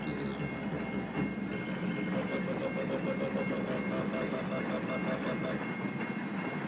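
Long freight train of 682 cars hauling iron ore runs past in open country, a continuous rumbling roll with rhythmic wheel clatter and metallic squeals, steady and fairly loud throughout.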